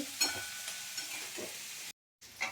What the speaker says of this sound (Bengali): পেঁয়াজ কালি ভাজছি